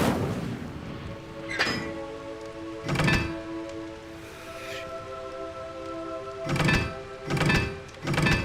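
Incendio fire spell cast in the game Hogwarts Legacy, several sharp whooshing bursts over a sustained tonal hum, two isolated then three in quick succession near the end.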